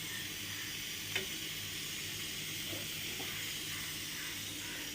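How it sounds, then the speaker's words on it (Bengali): Egg and onion frying together in a pan, a soft steady sizzle with a faint clink near the start, quiet and unbroken by speech. "ওই জাস্ট ডিম দিয়ে পেঁয়াজ দিয়ে একটু ভেজে দিলাম"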